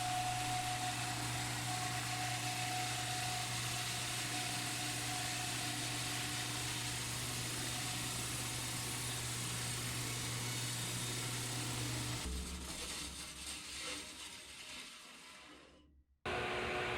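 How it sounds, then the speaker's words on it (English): A bandsaw cutting a jatoba shelf board runs with a steady, loud motor hum and blade whine, then shuts off and winds down into silence near the end. "I used my bandsaw to cut up the bottom shelf to fit inside the frame."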